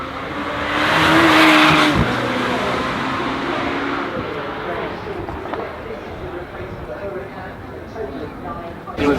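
A Lamborghini Temerario, a turbocharged V8 hybrid, drives past at a Goodwood Festival of Speed event, its engine rising to a loud roar and then fading into a steady drone as crowd noise and voices carry on underneath.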